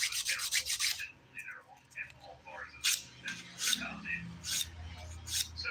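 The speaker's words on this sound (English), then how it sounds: "my 100 by 180 grit file as usual. Starting at the pinky nail as usual." Nail filing with a 100/180 grit file on a pinky nail at home, heard as short, raspy rubbing strokes in quick bursts, close and fairly quiet, with pauses between passes and low background noise.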